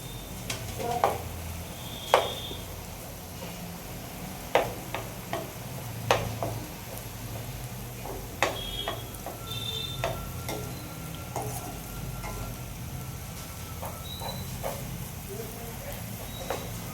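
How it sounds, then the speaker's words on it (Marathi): A mixture of soaked dal is stirred in a cooking pan, giving a steady soft scraping with a light sizzle and irregular small ticks and clinks of the spoon against the pan, fairly faint and close, with talking over it. "हे 5 ते 7 मिनिटं छान हलवत राहायचे."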